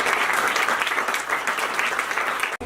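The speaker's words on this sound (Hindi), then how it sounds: "एक बार जोरदार तालियां।" Loud clapping from a school audience rings out as a dense, energetic burst of many hands that holds steady and then cuts off abruptly near the end.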